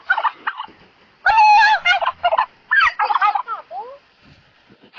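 Turkey gobbling in loud, close, rapid bursts of rattling calls, separated by short quiet gaps, with no other sounds between them.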